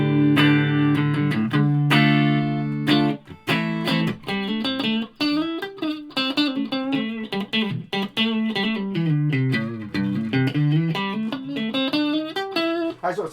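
Electric guitar played clean through an amp with reverb and no pedals, strummed chords and single-note runs ringing out loud and close for the whole stretch, with no talking.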